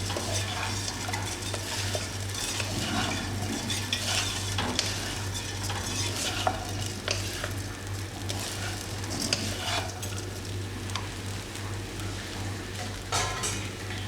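Bread frying and sizzling in a pan over a gas flame, a constant close sizzle with a low hum underneath and occasional utensil scrapes and taps against the pan, no speech.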